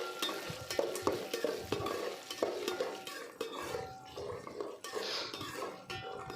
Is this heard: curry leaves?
yes